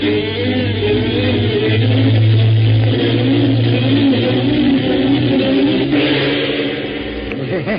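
Jack Benny's old Maxwell car is voiced as a radio sound effect, a sputtering, wheezing engine that revs and chugs loudly and continuously, then falters toward the end.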